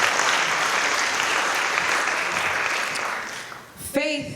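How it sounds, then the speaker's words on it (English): A room full of people breaks into sustained applause at a live poetry and musical performance, strong at first and then thinning, with a short burst of voice near the end. "Let's give Mildred a round of applause."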